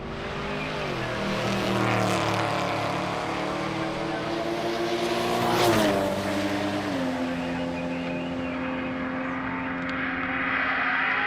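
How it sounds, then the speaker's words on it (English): A turbocharged Ford LTD drag car idles loudly with a deep, steady engine drone, revving up and shifting in pitch, then the engine note settles back into a rumbling idle at close range. "All right, left-hand side, that turbocharged LTD."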